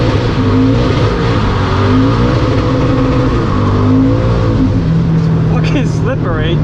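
A Toyota GT86 drifts on a slippery wet track on the Rockingham infield, its engine holding a steady, loud, close drone with rising and falling pitch while someone talks over it.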